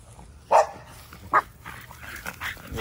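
A male dog barks outdoors, giving two sharp, separate barks about a second apart with quieter rustling and faint sounds between them.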